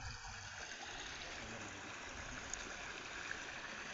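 Floodwater from the Aghanashini river surges over submerged farm fields in the monsoon, heard as a faint, steady broadband rush of flowing water, continuous and even throughout, with no voices.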